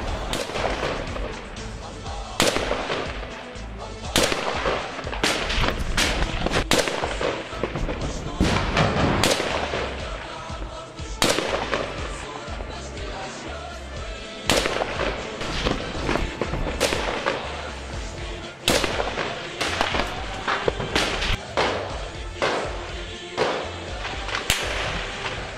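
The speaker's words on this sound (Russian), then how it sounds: "по позициям сирийской армии наносится удар самодельной пушкой, бьющей 300-килограммовыми снарядами" Intense combat in Jobar, Syria, including a homemade cannon firing 300-kilogram shells: repeated sharp, loud blasts and bangs at irregular intervals over a dense rumbling din, with no clear speech.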